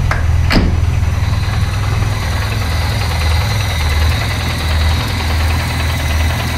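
Peugeot 205 engine with roughly set ignition timing catching and settling into a loud, close, lumpy idle with a steady low throb and rhythmic knocking, with no talk.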